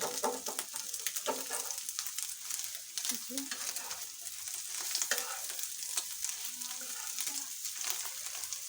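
An egg fries in a pan with a steady, close sizzle and crackle, broken by a few brief scrapes and clinks of a utensil, with no voices over it.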